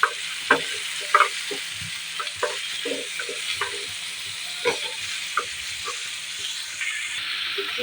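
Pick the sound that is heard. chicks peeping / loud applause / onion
onion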